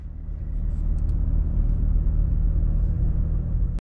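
A car driving into the Maroon Bells area in Colorado in autumn gives a steady low engine and road rumble from inside the cabin, with a faint click near the end before the sound cuts off.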